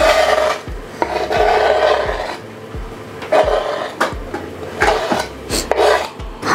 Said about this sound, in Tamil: வெங்காயம் வந்து நல்ல சின்னதாக கட் பண்ணணும்